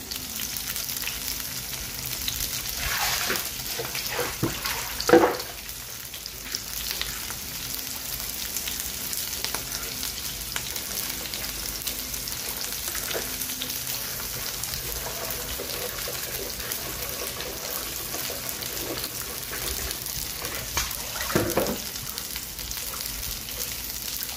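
Shrimp and tomatoes fry in a pan for a Filipino adobong takway with taro roots, a soft steady sizzle with a few clinks and stirring scrapes, fairly quiet and close, with no talking.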